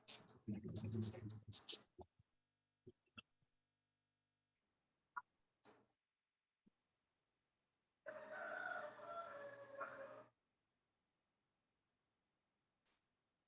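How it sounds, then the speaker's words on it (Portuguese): A rooster crows at home, a single loud, sustained crow that rises over a quiet indoor room, following earlier bursts of voices and clatter from people in a meeting. "Eu acho que o Galo daqui de casa gosta de participar da reunião."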